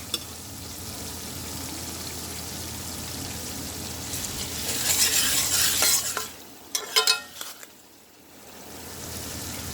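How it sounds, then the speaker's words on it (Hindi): Ginger garlic paste hits a hot pan for chicken mash dal, giving a steady sizzle and frying hiss with scraping stirs and a brief louder crackling burst midway, then settling back to a soft, even sizzle. "अब मैं इसमें ये जो अदरक लहसुन की पेस्ट है वो डाल दूँगी।"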